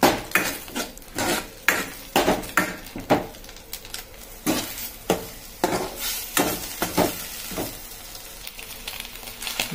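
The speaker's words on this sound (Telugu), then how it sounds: "బాగా కలుపుకోవాలి. ఉంటలు లేకోకుండా." Onions frying in a pan and stirred vigorously, loud repeated scraping and clanking strokes of a metal spoon against the pan in an uneven rhythm over a constant sizzle, close by with no talk.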